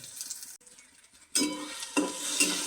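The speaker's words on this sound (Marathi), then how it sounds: "आपण त्याच्यामध्ये ही मिरची आणि कढीपत्ता ठेवला ना, तो घेऊया टाकून" Green chili and curry leaves drop into hot oil with reddish-browned frying onions, bursting into a loud, bright sizzle after a quiet stir, with a second surge of crackling frying close by.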